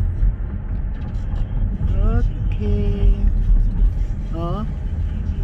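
A car drives along the road with a low, steady engine and road rumble, while voices speak briefly over it.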